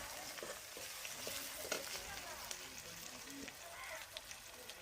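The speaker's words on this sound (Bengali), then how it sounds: "রসুন কুচি, তেজপাতা, লঙ্কা, শুকনো লঙ্কা দিয়ে দিয়েছি তেলে" Chopped garlic, bay leaf, and fresh and dried chillies frying in hot oil for a fish curry, giving a steady close sizzle with occasional stirring scrapes and a few sharper pops, with no talking.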